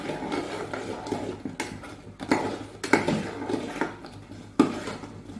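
Powder is stirred in a pan with scraping and clinking spoon strokes, a series of irregular close knocks and scrapes against metal.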